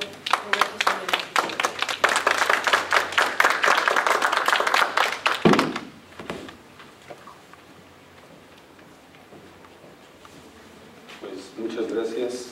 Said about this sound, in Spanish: un aplauso por favor para el maestro Roberto Soler